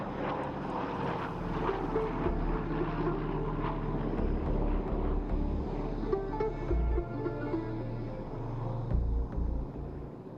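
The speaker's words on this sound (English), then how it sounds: "The Douglas DC-3 and its military variant C-47 selected by the Indian Air Force is powered by two Pratt & Whitney piston engines" A Douglas DC-3 with two Pratt & Whitney piston engines flies past during a flying display at the Aero India air show. Its engine drone stays loud and steady for the whole stretch, rising and falling in low rumbling surges with no talk.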